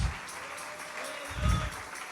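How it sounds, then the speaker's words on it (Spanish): Church congregation applauding during a sermon, a soft, diffuse patter of clapping that swells briefly midway, fairly quiet and distant with no talking over it. "Dale un aplauso a la gloria del Señor y a la palabra de Dios."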